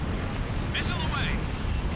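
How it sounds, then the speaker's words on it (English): Missile launch in a flight combat video game: a roaring, rushing whoosh with a brief rising whistle cuts through a steady, dense engine rumble that fills the whole moment. "Missile away."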